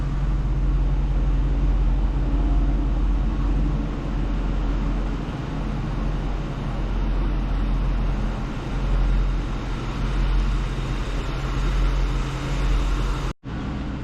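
A Lincoln Town Car's engine idles steadily with a low, constant rumble and no voices, running on evenly for the whole stretch before a brief dropout right near the end.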